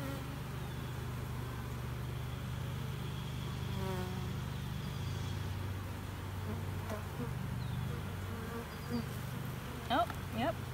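Honeybees from a nucleus colony box hum in a steady close drone, with individual bees whizzing past the ear now and then and soft voices talking briefly in the background.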